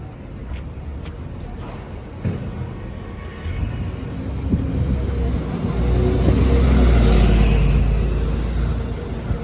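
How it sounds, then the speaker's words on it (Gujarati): London city bus number 27 pulling in, a low engine rumble that swells steadily and peaks near the end, with street shuffling and scattered footsteps nearby and voices talking over it. "ફાઇનલી અમારી બસ આવી ગઈ આ નહીં એની પાછળની ટ્વેન્ટી સેવન નંબરની"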